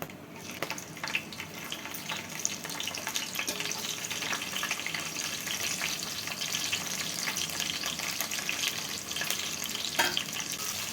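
Onions, green chillies, coriander and mint fry in hot oil with a steady, dense sizzle and crackle throughout, close by, with occasional stirring scrapes and no voice.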